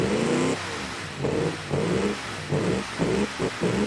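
A car engine in the BeamNG game, muffler removed, revs in several loud raw bursts separated by brief idling dips.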